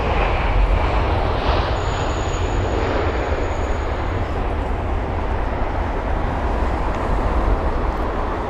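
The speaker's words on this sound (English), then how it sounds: "what we're watching right now is going to be BA 104 British Airways 787-9 Dreamliner arriving from Dubai" A British Airways 787-9 Dreamliner arriving at London Heathrow from Dubai gives a steady, broad jet roar that holds throughout at moderate distance, with no voices.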